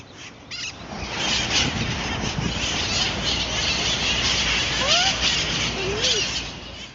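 Wild parrots in San Francisco give a few squeaky, rising calls over steady broadband outdoor noise, with faint chatter in the background.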